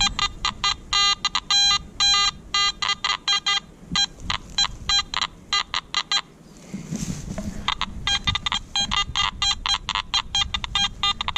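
Metal detector at an old ferry crossing sounding off over a hole with iron in it: rapid, choppy electronic beeps and tone bursts in stuttering bursts, briefly interrupted by digging noise, heard close with no talking.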